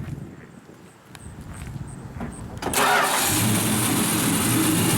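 A 1972 Plymouth Duster 340 with dual exhaust cranks briefly and then catches, settling into a loud, steady idle close by after a few quiet seconds of background noise.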